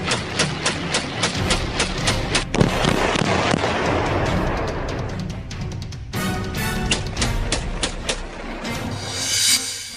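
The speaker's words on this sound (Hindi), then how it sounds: "AK-47 से ताबड़तोड़ फायरिंग करता ये खालिस्तानी आतंकी हरदीप सिंह निज्जर है।" An AK-47 rifle fires in rapid, dense bursts of sharp cracks that come close together and run almost without a break for ten seconds. The sound is loud and outdoors, with echoing tails and no talk over it.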